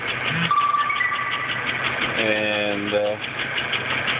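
GM 3.4 engine idling with an engine knock, a steady close mechanical drone with a rhythmic tapping running beneath it, while a person speaks briefly over the sound.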